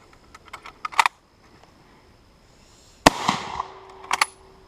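A Krag-Jørgensen Model 1898 long rifle fires a single loud, sharp .30-40 Krag shot that rings out and decays, with light metallic clicks of handling before and after and no talk.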